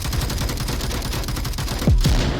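Onward VR match with a loud, sustained rapid stream of machine gun fire, a tight rhythmic rattle running unbroken from start to finish with a heavier burst near the end.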